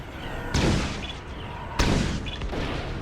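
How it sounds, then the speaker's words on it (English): Two sharp, booming blasts of a rocket detonating by proximity fuse in Star Wars Squadrons, each a sudden loud crack decaying into a rumble, spaced over a second apart above a steady engine hum. "but my rocket went off anyway"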